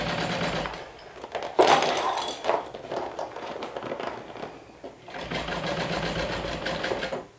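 A sewing machine stitches a seam on a clear vinyl beach bag, its rapid mechanical chatter running steadily and close throughout, with a brief pause partway before resuming at full speed.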